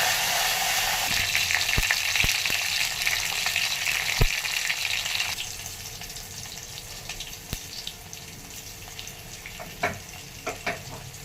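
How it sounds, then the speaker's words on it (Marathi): Coriander, red chilies, curry leaves and urad dal tempering in hot oil for a chutney, a loud dense sizzle that thins out partway through, with sharp utensil clicks and taps scattered across it. "कोथंबीर आणि लाल मिरच्या याचा आपल्याला तडका द्यायचा आहे"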